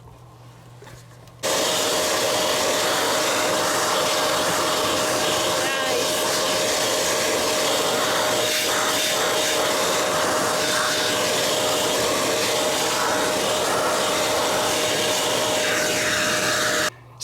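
A Shark Navigator Lift Away vacuum cleaner runs with its duster brush attachment, a loud, steady high-pitched whine and rushing airflow that starts abruptly, holds constant and cuts off at the end, with faint rubbing as the brush works over fins.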